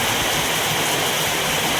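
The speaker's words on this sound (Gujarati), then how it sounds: "बाप रे કેટલી બારિશ પડી રહી હે" Heavy rain pours down at Tulsishyam, a dense, steady hiss of water with no breaks and no voices, loud and close all around.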